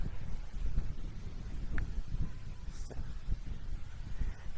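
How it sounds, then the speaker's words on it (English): Wind gusts across the exposed slopes of Aran Fawddwy at a wild camp, a steady low rushing buffet against the microphone with faint rustling and no voices. "about an hour ago, the wind picked up."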